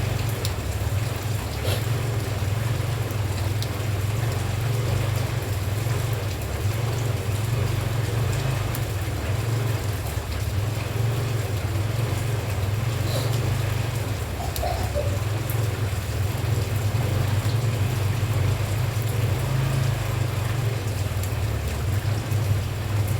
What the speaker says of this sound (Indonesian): Jadi sekitar 2-3 hari ini memang hujannya hampir nggak berhenti ya teman-teman ya